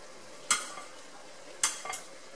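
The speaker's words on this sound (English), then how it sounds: "Then I'm going to place my peppers in the bowl, and I'm tossing my peppers." Roasted peppers are tossed into a bowl of vegetable mixture, heard as two or three brief, soft scraping and clinking strokes spaced about a second apart over quiet room tone.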